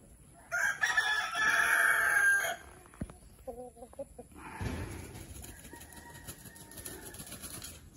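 A black copper rooster crows loudly and close for about two seconds, followed by softer clucks and faint rustling with some background noise.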